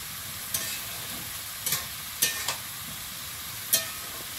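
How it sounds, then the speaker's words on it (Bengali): Potatoes fry with spices in a pan, a steady soft sizzle with a few sharp scraping stir strokes on top and no talking. "আলুটা মশলার সঙ্গে কিছুক্ষণ ভেজে নিয়েছি,"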